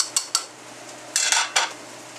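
Rice being stirred in a cooking pot, a few quick scraping clinks of a utensil against metal in close, irregular bursts over quiet background.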